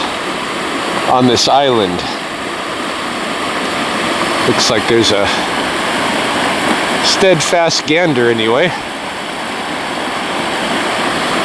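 River rapids rush in a steady, close, broadband roar beside an island, with someone talking over it and a goose honking at a few points.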